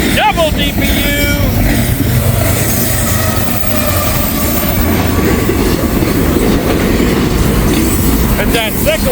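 Freight train with a double set of distributed-power (DPU) locomotives rolls past close by in Kentucky, a loud steady rumble of wheels and clattering cars with faint squeals, continuous throughout.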